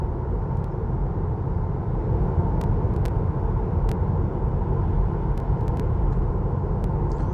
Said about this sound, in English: So it's mostly the motor that spins and makes noise.